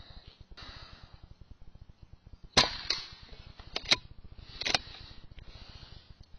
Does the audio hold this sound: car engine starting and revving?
no